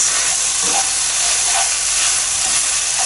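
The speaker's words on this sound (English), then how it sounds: "And as you can probably hear, that's browning really nicely." Beef browns in a hot pan for a slow-cooked balsamic beef stew, a loud, steady, close hiss of sizzling fat with no pauses and no voices.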